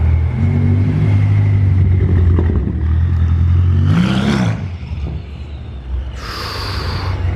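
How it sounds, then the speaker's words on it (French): A BMW M5 engine revs loudly on a Monaco street, a steady close rumble rising into a sharp surge midway, then a higher whining burst near the end. "Regardez cette M5, le bruit de malade."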